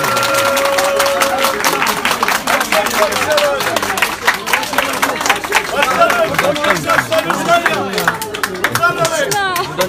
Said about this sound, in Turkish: Beyler alkış, beyler.